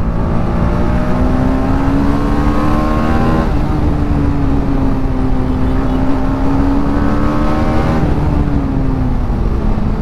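KTM RC390 motorcycle engine held at a steady high rev during a road race, a loud, close, continuous drone with wind rush, pitch dipping briefly and recovering a couple of times.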